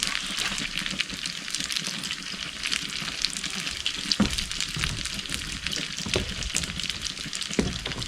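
Food frying in oil in a pan outdoors beside an off-grid cabin, a steady close crackling sizzle throughout, with a few brighter pops and spatters along the way and no talking.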